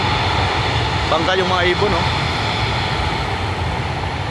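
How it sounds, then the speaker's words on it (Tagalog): Loud, steady broadband engine roar of a Cebu Pacific passenger jet taking off from an airport, continuous throughout, with a brief voice speaking over it near the start. "Ayun naman Cebu Pacific, palipad na."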